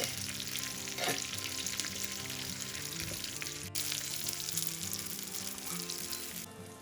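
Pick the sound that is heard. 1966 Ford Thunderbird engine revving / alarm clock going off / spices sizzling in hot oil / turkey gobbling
spices sizzling in hot oil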